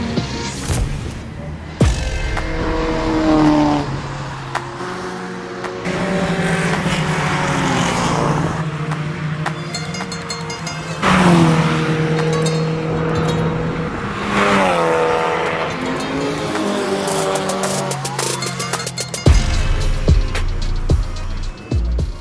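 Race cars heading out onto a racetrack during a driving experience session, engines revving up and down through gear changes, several passing and fading, with occasional tire noise, sustained and fairly loud throughout.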